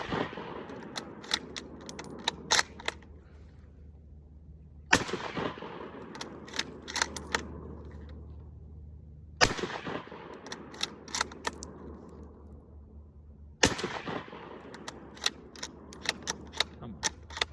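A Beretta Type I pistol fires at targets about 30 yards away outdoors: four loud, sharp shots seconds apart, each ringing out in a long echoing decay, with rapid metallic clicks and handling rattles in between.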